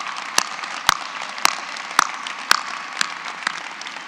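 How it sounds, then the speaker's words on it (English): Audience at a 2023 graduate school commencement ceremony applauds, with sharp loud claps standing out at regular intervals over a softer, steady spread of clapping. "by a big warm round of applause for the community"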